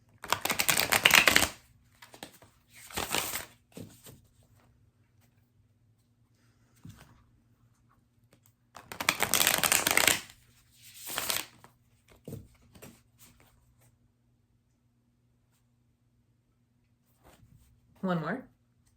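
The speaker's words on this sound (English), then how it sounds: "So I'm going to do a short shuffle." Tarot cards are shuffled in several short bursts of papery riffling and slapping, separated by quiet pauses, close and fairly soft, with a brief voice near the end.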